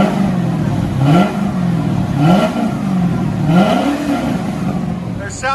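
Chevy Corvette 5.7L V8 with a Corsa cat-back exhaust revving repeatedly, three or four rising throttle blips that fall back to a burbling idle, loud and close.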